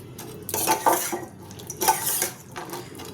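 A slotted spoon scoops fried sweets out of syrup in a pan, producing close, wet scraping and clinking of metal against the vessel in a few separate strokes, with light bubbling underneath.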